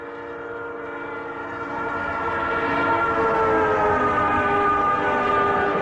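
A B&O passenger train passes with a sustained, multi-tone horn. The sound grows louder and nearer as the train approaches, and the rumble of its railcars runs underneath.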